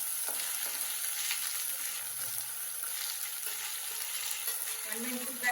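Cashew nuts and a couple of dried red chillies fry in a pan for a gravy, giving a steady, close sizzle with occasional light stirring scrapes throughout.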